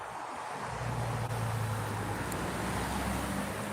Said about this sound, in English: traffic noise doesn't drown me out